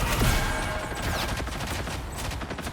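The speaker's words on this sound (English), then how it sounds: "Take the Punisher out of his turret." Rapid turret gunfire from the Punisher in the hero shooter Marvel Rivals, a dense burst of shots with sharp cracks, loud and continuous over game effects.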